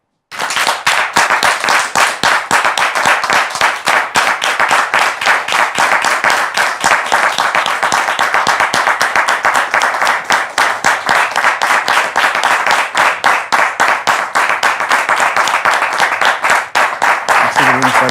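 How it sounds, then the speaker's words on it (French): Studio audience on a French TV talk show set breaks into dense, sustained applause, loud and steady clapping from many hands lasting the whole stretch without letting up. "Sous vos applaudissements, s'il vous plaît."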